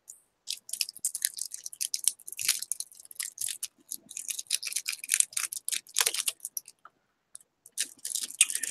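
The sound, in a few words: chewing a lemon hard candy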